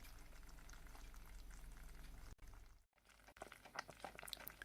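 Plum jam boils in a jam pan with a dense, steady fizzing and bubbling, close and fairly quiet, briefly interrupted before the popping bubbles resume.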